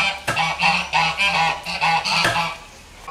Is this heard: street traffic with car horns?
no